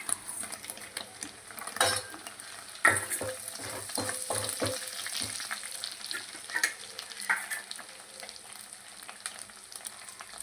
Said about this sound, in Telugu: ఇప్పుడు షాజీరా, దాల్చిన చెక్క, లవంగాలు, బగారాకు వేసుకోవాలి.